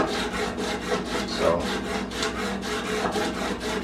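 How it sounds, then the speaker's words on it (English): Rhythmic back-and-forth strokes of a sanding block rubbing along the bevel of a handmade knife blade, steady and close, with a brief spoken word near the start. "I've already sanded down the other side of the blade, you know, the bevel"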